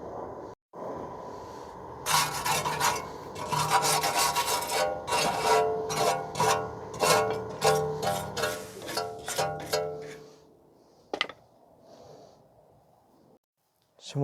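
Rust is scrubbed off the rear brake parts of a 2016 Ford F-150 3.5 in a brisk, close series of rhythmic scraping strokes that speed up, then taper and stop into quiet.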